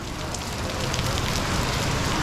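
Rain drums down on surfaces at an outdoor market in the Philippines during the rainy season, a steady, dense hiss that holds evenly throughout with no break.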